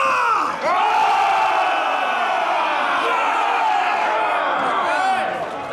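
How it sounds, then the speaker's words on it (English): On the set of Transformers: The Last Knight, a film crew lets out a loud, sustained roaring cheer as a sword is lifted, the shouting swelling quickly and holding steady before easing off at the end. "And when they lift the sword, we're all going to cheer"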